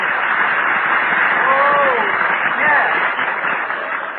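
Studio audience applause on an old radio comedy show: a steady, band-limited wash of clapping and cheering that runs the whole stretch, with a voice briefly heard over it.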